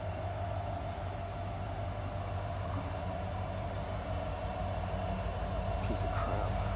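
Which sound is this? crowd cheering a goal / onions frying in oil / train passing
train passing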